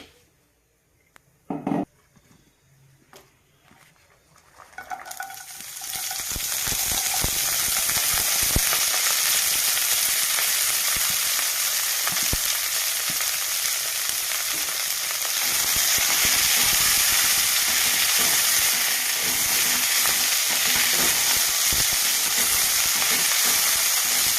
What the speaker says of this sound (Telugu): ఉల్లికాడలు వేగాలండి